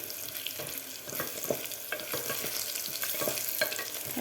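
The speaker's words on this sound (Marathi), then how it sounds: "आता व्यवस्थित आपल्याला एकत्र करून हे फ्राय करून घ्यायचं आहे।" Whole spices fry in a pan for a cashew and pea pulao while a spoon stirs them, giving a steady sizzle with repeated scraping strokes, close up and with no talking.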